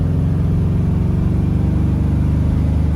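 A 1975 Chevrolet Suburban restomod accelerates in traffic, its engine giving a steady, close, droning hum with a continuous rumble and no voices over it.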